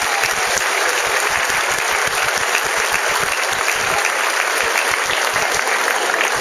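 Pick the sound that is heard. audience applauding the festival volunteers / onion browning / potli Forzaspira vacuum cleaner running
audience applauding the festival volunteers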